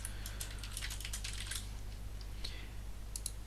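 Rapid typing on a computer keyboard in Windows 10 Notepad, a steady stream of light, close key clicks over a low constant hum.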